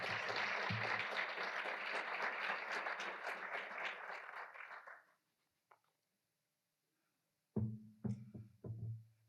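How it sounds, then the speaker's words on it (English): Audience at a faculty and staff in-service event giving a round of applause, full clapping for about five seconds that fades out, followed by silence and then a few knocks and thumps. "Let's give them another round of applause"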